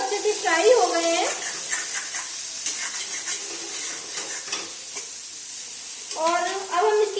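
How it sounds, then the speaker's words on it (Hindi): Potato samosa filling frying in a pan, a steady close sizzle and hiss with stirring scrapes, while a voice talks over it at the start and end. "हमारे आलू हैं समोसे के, वो अच्छे से फ्राई हो गए हैं"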